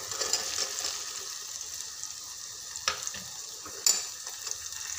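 Washed, chopped okra sizzles in an oil-filled pan for Marathi-style bhendi bhaji, a steady soft frying hiss with occasional sharp crackles and spatula clinks, no voices.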